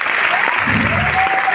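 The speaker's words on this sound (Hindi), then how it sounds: "Last 1 minute Tali बजाइए।" A crowd at a meeting claps steadily and loudly in a brief burst, with a faint voice underneath.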